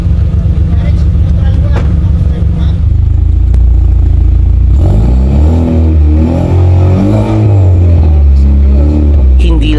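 Camaro RS with a full turbo-back exhaust, its engine rumbling loud and close at idle, then revving hard in rising and falling surges, with voices faintly audible beneath.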